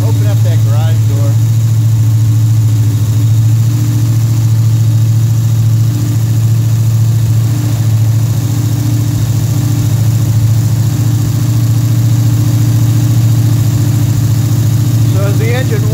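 A carbureted Pontiac engine with a Quadrajet carburetor idles fast and steady while warming up, with a constant low droning rumble, close by and loud, running without a break.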